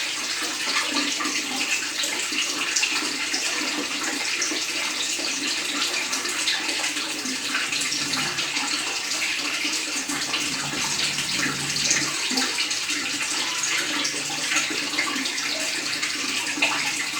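Water poured into a steamer pot for steaming betel leaf pieces, a steady broadband splashing rush that runs continuously and fairly loud throughout, with no talk.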